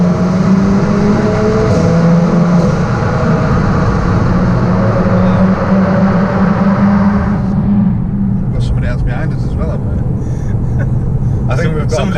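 A tuned APR Stage 2 Volkswagen Golf R accelerates hard through a tunnel with the window open, a loud, sustained engine roar mixed with wind rush, easing off near the end as a voice talks over it.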